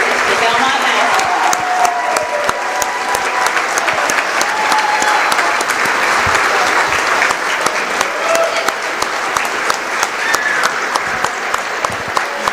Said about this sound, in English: Let's give a big round of applause to Mr. Steve Kane, 50 years of service to Belmont basketball.